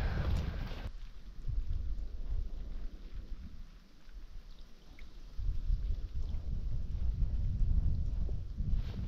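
Steady rain falls outdoors in the Pulju wilderness of Finnish Lapland, a broad continuous hiss with low rumbling, loud and close throughout and getting heavier toward the end, with no talking.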